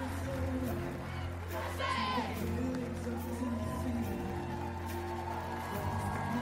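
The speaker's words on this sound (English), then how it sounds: "the fans who reciprocate with a loud cheer for their team" Fans at a women's international volleyball match cheer and shout in a large arena, a distant crowd roar mixed with whoops, under a commentator talking over it.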